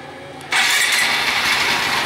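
A red 2015 Honda MSX motorcycle engine is started by a remote anti-theft alarm: after a brief quiet moment it catches abruptly and settles into a steady, close idle.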